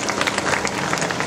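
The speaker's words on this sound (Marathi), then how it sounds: "त्यांच्यासाठी जोरदार टाळ्या होऊन जाऊन दे." Audience at a Women's Day event clapping, a dense burst of close applause filling the whole short moment.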